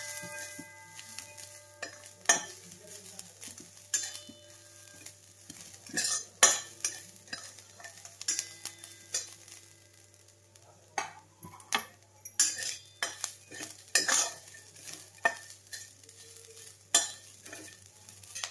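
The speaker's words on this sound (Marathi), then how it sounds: "ओला जो नारळ होता की नाही तोही मी किसून घेतलेला आहे आणि आता तोही असा थोडासा हलकासा भाजून घेते" Freshly grated coconut is lightly roasted in a pan for kheer, with a spoon scraping and tapping against the metal in irregular strokes over a faint sizzle, close and quiet.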